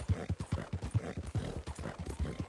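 Horse hooves pound in a steady galloping rhythm in the video game Red Dead Redemption 2. The hoofbeats are fairly faint and play alone, with no talk over them.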